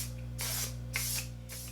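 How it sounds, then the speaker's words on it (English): Three short hissing bursts of matte setting spray are misted onto a made-up face, evenly spaced and close, over a faint steady electrical hum. "I'm going to set the face with another One Size favorite, my matte setting spray on till dawn"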